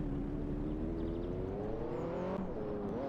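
A car engine from a Garry's Mod engine-sound mod hums steadily and rises in pitch as it accelerates, with a brief gear-change dip near the end, heard alone.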